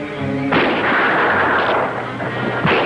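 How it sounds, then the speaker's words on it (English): A gunshot from an old jungle adventure film cracks out loudly, followed by a brief echoing tail and a second shot near the end, over a faint soundtrack hiss. "Shot."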